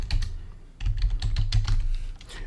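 Typing on a computer keyboard while entering a formula in an Excel spreadsheet: a quick run of close, fairly loud key clicks in irregular bursts with a short pause, no talk.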